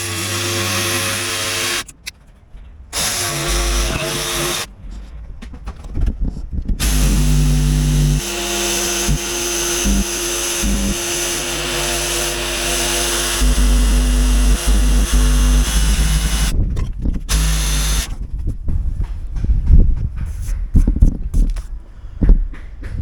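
A power tool, likely a jigsaw or oscillating saw in a rental renovation, cuts out an opening after two pilot holes were drilled; a loud, near buzzing whine runs for long stretches, broken by brief pauses.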